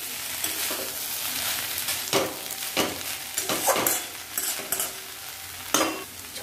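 Boiled chickpeas being stirred into green chilli and papaya in a hot pan, giving a low sizzle under repeated scraping strokes of a spoon, several sharp scrapes standing out at irregular intervals.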